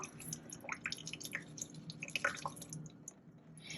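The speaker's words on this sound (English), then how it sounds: "you can take your raisins, strain them, drain out that water" Water drains off strained soaked raisins in quick irregular drips and trickles, faint and close, thinning out toward the end.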